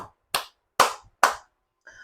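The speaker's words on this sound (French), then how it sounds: "applaudissez plutôt pour Abdourahmane Tchani" Three sharp, separate hand claps, close and loud, spaced about half a second apart with silence between them, ending in a brief faint tonal sound.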